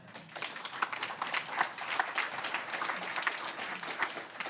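An audience applauds at the 2022 San Mateo County climate summit, a steady wash of many hands clapping at moderate loudness throughout, fairly close and continuous with no talk over it.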